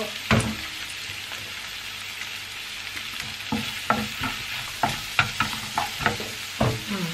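An egg fries for lechon sisig in a hot pan, a steady sizzle with sharp stirring scrapes and clicks growing more frequent toward the end, close and clear with no talk.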